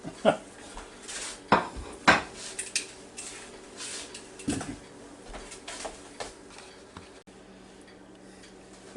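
Knife and fork clatter against a plate while cutting into chicken thighs cooked in a Ninja Foodi Deluxe with Hooters breading, giving scattered sharp clinks and scrapes over a quiet room.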